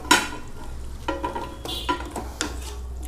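Ginger garlic paste mixture is stirred in a pot for restaurant-style chicken biryani, with a spoon scraping and knocking against the metal in several distinct strokes over a low background sizzle.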